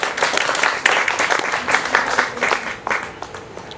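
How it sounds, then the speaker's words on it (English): Wedding guests clap for the newlyweds in a short burst of lively, uneven applause that fades out over a few seconds. "let's clap for Michael and henneth."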